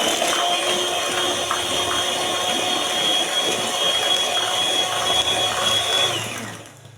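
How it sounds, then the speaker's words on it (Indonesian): An electric mixer whips a homemade ice cream mixture until it turns fluffy, a loud, steady, close mechanical whirring with gear-like buzzing that winds down at the very end. "Ini di mixer sampai mengembang ya."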